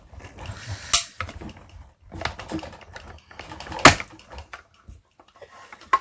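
A hand-cranked die-cutting and embossing machine grinds in uneven bursts as the crank turns, close and clattery, with sharp knocks and rattling from items on the desk between quieter gaps.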